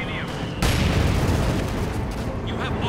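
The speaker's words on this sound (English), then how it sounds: "T-34 blasting it" A T-34 tank fires in the Company of Heroes 2 battle, a sudden heavy boom that rolls into a long rumbling decay, set against game ambience while a commentator talks.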